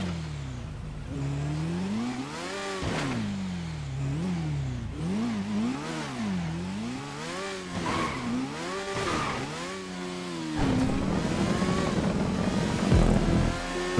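A motorcycle in GTA 5 revs and accelerates repeatedly during a parkour race, its engine pitch climbing and falling in quick swoops, then settling into a rough, loud, steady roar near the end.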